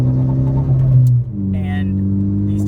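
A car on rough, uneven Kentucky back roads near the Tennessee line, fitted with ATR Sport 2 tires: a steady low engine and road drone fills the cabin, briefly dipping partway through before settling back to a constant rumble.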